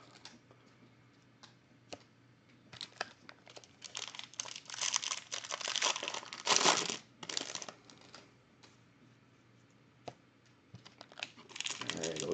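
Packs of 2017 Bowman Jumbo trading cards are torn open, their foil wrappers crinkling and rustling in bursts close to the mic, with a louder crumpling stretch midway and soft taps between.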